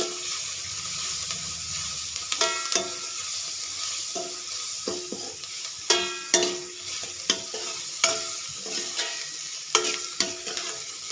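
Cauliflower frying in a pan with turmeric, a steady close sizzle broken by repeated sharp stirring scrapes and clinks of the spoon against the pan, with no talking.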